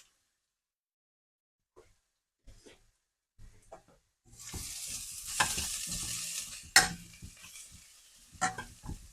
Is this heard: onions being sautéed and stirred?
yes